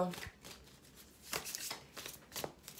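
I Ching tarot cards are shuffled by hand, a few soft riffling swishes and taps close by in a quiet room, with a voice speaking over them.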